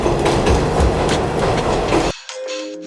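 A New York subway train rumbles and clatters loudly along the rails as it pulls into a station, then the noise cuts off abruptly to a quieter hum with faint squealing tones.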